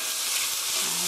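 Onion, garlic, ginger and red bell pepper stir-fry in a pan with a brief, steady hiss of sizzling that stays even throughout.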